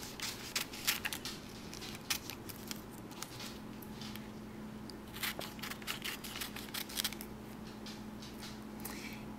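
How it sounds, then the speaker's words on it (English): Scissors snipping through paper to cut triangles for paper beads, a quick irregular run of close, crisp snips and rustles with short pauses, fairly quiet and alone. "So we're going to need a lot of these triangles, so we're going to keep cutting."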